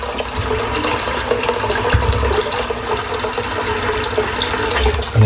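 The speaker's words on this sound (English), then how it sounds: "So just filling the sink up with some cold water." Cold water running from a tap into a filling sink, a steady, loud splashing hiss that continues without break, close by, with no talk.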